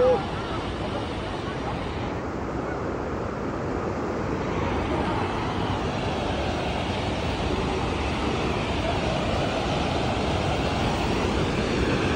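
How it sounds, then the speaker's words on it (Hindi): Steady, loud rushing roar of the Jaban waterfall in Malakand, a continuous broadband wash of falling water heard close and unbroken throughout. "हम पहुंच गए हैं मलकंड का जबन वाटरफॉल"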